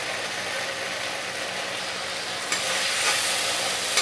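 Black sesame paste frying in a pan, giving a dense, steady sizzle with scraping stirs that grow slightly louder toward the end, close and continuous with no talking.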